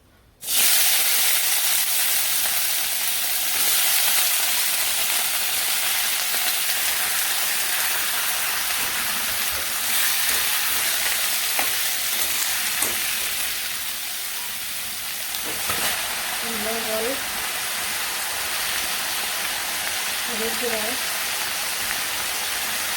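Vegetables fry in hot oil with a continuous, even sizzle that fills the whole stretch. Toward the end, a couple of faint, brief vocal sounds rise above the hiss.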